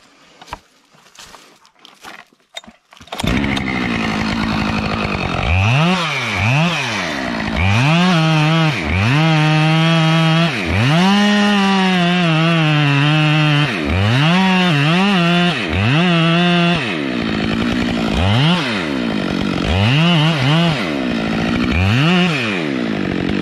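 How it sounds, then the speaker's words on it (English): A chainsaw makes the back cut on a tree being felled, starting with a few pull or idle sputters, then roaring loud and close with repeated rising and falling revs as it bites through the trunk. "We can go ahead and start on that back cut."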